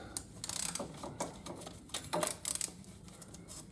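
An oil filter is snugged up with a small scrap wrench during an oil change, making a quick run of faint ratcheting clicks and metallic creaks close by, with no talking.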